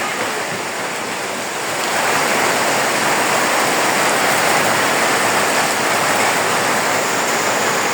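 Heavy rain pours down in a steady, dense roar that swells slightly after the first couple of seconds and holds loud and unbroken throughout.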